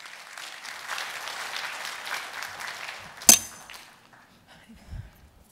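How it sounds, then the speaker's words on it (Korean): Steady audience applause at a Korean conference forum welcomes a speaker for the first few seconds, then fades out after a sharp clink, leaving a quiet room with faint rustling. "자, 여러분 뜨거운 박수로 맞이해 주십시오."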